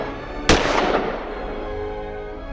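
A single sharp gunshot cracks out and rings off into a fading echo, with no voices around it.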